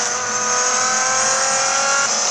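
A hypercar engine in the Real Racing 3 mobile racing game screams at high, steady revs, loud and close throughout with no talk over it.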